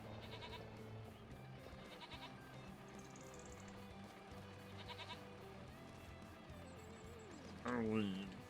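Goats in Farming Simulator 25 bleat repeatedly in short nasal calls, several spaced across the stretch, under low background ambience with a louder burst near the end.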